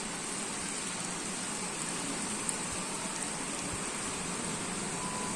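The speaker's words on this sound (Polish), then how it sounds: "Tak, taka ulewa jest." Heavy rain pours down steadily during a violent storm with a downburst over Kunów, a dense, continuous hiss of a downpour with no voices.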